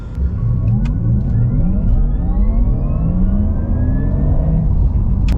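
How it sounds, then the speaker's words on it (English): A Porsche Taycan 4S electric car accelerates with its piped-in sporty drive sound, loud, smooth rising and sweeping synthetic engine-like tones layered over road noise, gliding upward in repeated waves with no speech. "There's sound that's piped into the car that give you more of a sporty experience while you're driving the car."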